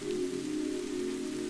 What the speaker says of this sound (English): as the night deepens, the rain becomes softer still